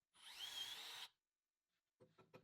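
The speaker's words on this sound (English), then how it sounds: "they can drill your pilot hole and countersink them all in one motion" A power drill fitted with a combination pilot-and-countersink bit bores into wood in one burst of high whining spin lasting about a second, followed after a pause by a few short scraping, knocking handling sounds.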